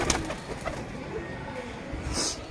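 Domestic pigeons cooing in a rooftop loft, soft low coos repeating near and close under steady background noise, with a brighter bird call near the end.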